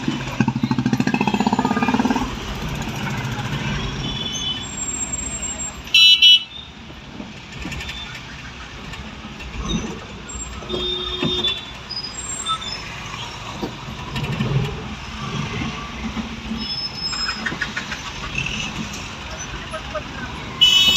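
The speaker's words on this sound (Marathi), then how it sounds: "ह्या चौकात आता बा दोन्ही साईडने ट्रॅफिक थांबलेलं आहे" Busy road traffic at a crowded intersection in Kudalwadi, Sindhudurg, with vehicles stopped on both sides: a steady engine and road rumble with scattered short horn toots. Voices talk over it throughout.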